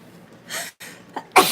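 A sharp inhale and gasps build up, then a loud sneeze bursts out at the end, close by.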